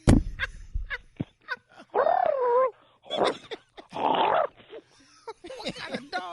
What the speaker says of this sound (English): He know how to bark in Spanish.